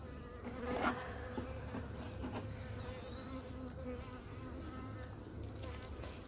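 Bees from an opened hive box during a walk-away split drone in a steady, low, fairly loud buzz throughout, with a few brief louder passes close by and no talking.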